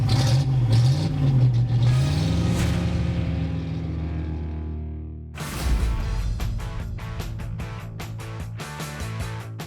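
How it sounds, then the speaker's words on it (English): DeLorean-bodied monster truck engine fires up and runs loud and close, a rumbling idle with rising revs, a pause, then a second burst of revving with sharp throttle blips through the rest. "This is my DeLorean monster truck, and this is what it sounds like when I fire it up."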